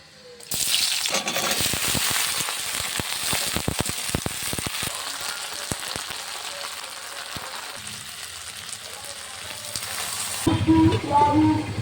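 Long-cut okra frying in oil in a wok, a loud continuous sizzle with scraping stirring clatter, then the frying fades near the end as a voice begins to speak.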